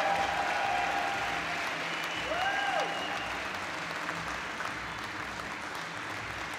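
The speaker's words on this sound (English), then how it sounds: "Standing ovation" Standing ovation from the crowd after a long squash match between Matthew and Gaultier at the 2018 Tournament of Champions, with continuous applause and a few whistles rising above the clapping.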